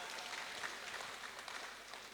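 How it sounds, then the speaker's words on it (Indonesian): Faint, distant applause from a stage-show audience welcoming nine dancers, a soft, even patter of clapping that continues for the whole stretch without voices. "Tepuk tangannya semangatnya buat 9 penari kita"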